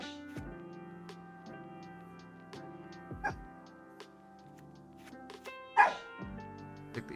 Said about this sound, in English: Sorry about my dog barking.